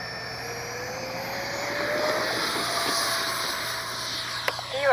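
A Freewing F-35 70mm EDF RC jet flies overhead, its ducted fan whining in a steady high rising tone that shifts pitch as it passes at moderate distance, ending with a few sharp bumps.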